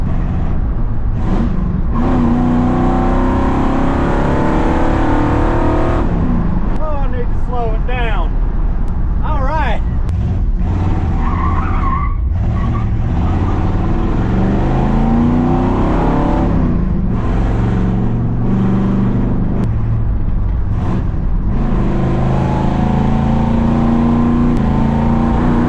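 A 1968 Ford F-100 pickup runs with its exhaust cutouts open, a loud continuous engine rumble that rises and falls with revs and holds across the whole stretch while people talk over it.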